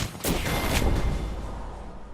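Knuckle Cluster cluster bomb firing in a video game: a burst of rapid crackling blasts, loud at first and trailing off into a fading rumble, with no talking.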